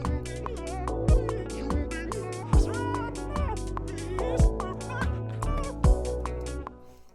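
Formant-shifted vocal chops made in Logic Pro with Melodyne, some of them reversed: choppy, pitched vocal fragments stutter over a beat with deep thumping kicks, loud and continuous.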